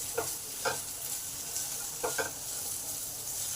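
Potatoes fry quietly in a pan, with a soft, even sizzle broken by a few distinct scraping stirs of a spatula, two close together near the end.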